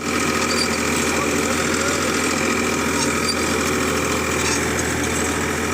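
Tractors work a field during wheat sowing, their engines giving a continuous, even rumble with a steady mechanical hum and no breaks.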